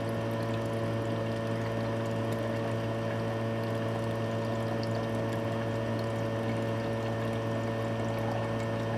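Water pours and sloshes steadily over gold-cornered BGA IC chips to rinse carbon residue away, a constant, even flow of liquid with a faint hum beneath, no talking.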